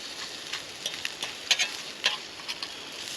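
Spam and peppers sizzle steadily in a pan outdoors, with a spatula scraping and stirring in several sharp, close bursts over the constant frying hiss.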